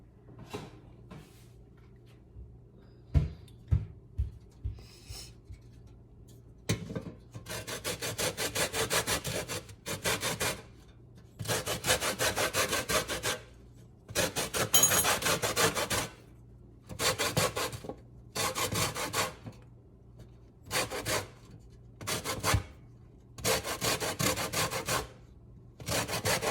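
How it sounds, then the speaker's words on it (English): Lime peel scraped against a hand grater in a home kitchen, giving repeated rasping strokes in bursts of roughly a second each, fairly close and steady, with no talking over it. "I'm going to grate a little bit of lime peel"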